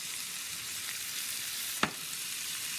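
Vegetables fry in oil with sugar and molasses, a steady, fairly quiet crackling hiss with one brief sharp knock of a utensil near the end.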